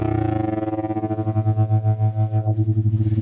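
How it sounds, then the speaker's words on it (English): Manson MB-1 electric guitar playing a sustained distorted chord through a tremolo effect, the volume pulsing in a steady wavering rhythm that speeds up over a few seconds, loud and close with no talking. "I could kind of add to that a tremolo rate as well."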